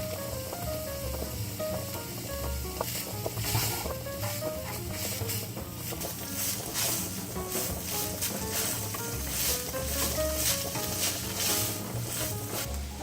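Ground meat browns for lasagna in a pan, a steady, close sizzle with occasional stirring scrapes and faint background music.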